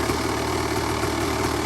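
A Kawasaki KX 500 two-stroke dirt bike, cold-started after sitting for months, idles loud and close with a steady, rapid burbling putter and no voices.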